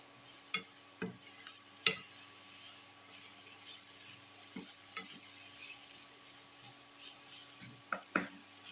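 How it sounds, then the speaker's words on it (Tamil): Quiet frying sizzle of ridge gourd sautéing runs steadily while a utensil scrapes and taps against the pan every second or so, no voices. "இதில் பீர்க்கங்காய் ஆட் பண்ணிவிட்டு கொஞ்சம் லைட்டாக ஒரு வதக்கிட்டு"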